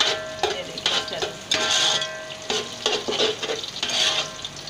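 Spoon stirring egg fried rice in a hot pan, scraping and sizzling in repeated strokes with short pauses between, close and steady, no talking.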